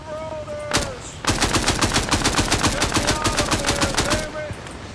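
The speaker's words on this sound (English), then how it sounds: "Shoot the rotors." Rapid video game gunfire fired at a helicopter's rotors, a dense burst of loud close automatic shots in a fast steady rhythm, preceded by a single sharp shot, with brief faint voices around it.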